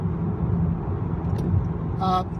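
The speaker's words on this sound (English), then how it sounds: "The only noise in here right now, it's not wind, it's the tires." Steady low tire rumble on a rough road surface fills the cabin of a 2018 Honda Accord Touring 2.0 while driving, a constant moderate drone with a brief faint higher noise near the end.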